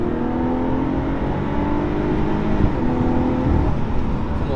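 A Lotus Evora S with a Toyota 3.5-litre engine revs steadily and loudly, its engine note held up and climbing slightly with a continuous mechanical whir, no talking over it.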